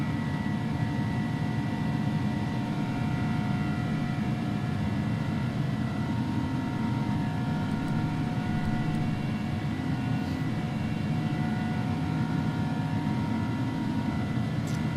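An iniBuilds A300 airliner in X-Plane 11 climbs under heavy cargo, making a loud, constant jet engine roar with steady tonal whine layered over a broad rumble for the whole stretch, with no voices.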